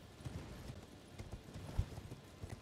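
A horse in the Elden Ring DLC video game runs with quick, fairly soft hoofbeats in an uneven rhythm, plus a brief whinny, over a low background.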